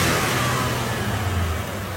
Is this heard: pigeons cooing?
no